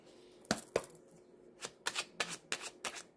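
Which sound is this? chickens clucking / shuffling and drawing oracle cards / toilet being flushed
shuffling and drawing oracle cards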